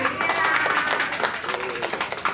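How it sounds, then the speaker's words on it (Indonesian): A group clapping together at a community clean-living education gathering for kindergarten children, a dense, steady patter of many hands filling the whole stretch at moderate loudness, with a voice briefly audible over it. "Tepuk tangan sekali lagi"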